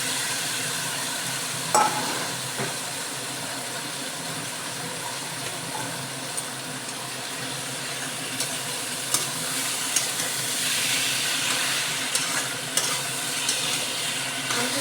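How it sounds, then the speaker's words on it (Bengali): Chicken meat frying in spices for a chicken curry, a steady sizzle throughout, with occasional stirring clinks and scrapes in the pan, moderately quiet and without talk. "এবার আমি মাংসগুলো দিয়ে দিয়েছি"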